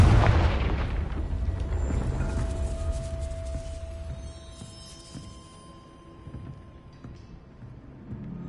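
A Confringo fire spell in Hogwarts Legacy bursts with a loud, deep booming explosion at the start, its rumble slowly fading over several seconds into quieter game ambience, no talking.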